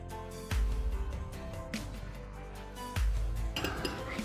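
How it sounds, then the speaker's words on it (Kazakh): A spoon stirs buckwheat groats and sugar over butter in a dish, giving clinking scrapes with a few louder knocks against the container, close and fairly quiet with no talk. "Араластырамыз."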